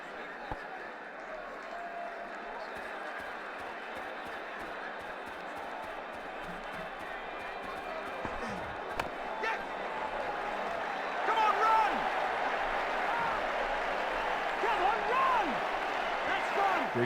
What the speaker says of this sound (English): The crowd really enjoyed that.